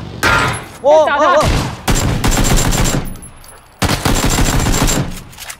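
Gunfire in the PC battle royale game PUBG, loud bursts of rapid shots in several clusters separated by short gaps, with an excited voice breaking in between volleys.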